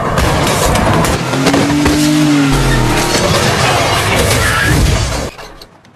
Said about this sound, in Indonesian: pria itu menginjak gasnya dan akan menabrak mereka